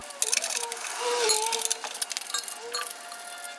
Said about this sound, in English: you can use your ratchet to get them rest of the way off